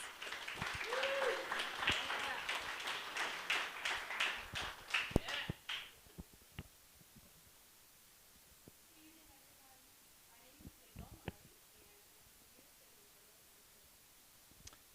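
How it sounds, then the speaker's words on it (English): Round of applause from an audience for student projects, fairly loud clapping for about six seconds then quickly dying out, followed by quiet room noise with a few scattered knocks. "could we please give a hand of a round of applause"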